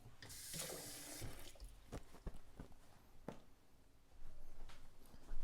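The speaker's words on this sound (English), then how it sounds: "We've rinsed the chestnuts." Chestnuts being rinsed in a basin of water, with a burst of splashing and running water early on, then scattered knocks and sloshing and a louder swirl of water near the end.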